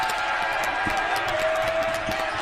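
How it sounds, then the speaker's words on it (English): Home crowd noise at a high school varsity boys basketball game, Jefferson at Kennedy, as the Jaguars take a 2-0 lead: a steady, dense roar of cheering and voices, with a whistle-like tone and sneaker squeaks in the mix. "Big Jaguar crowd"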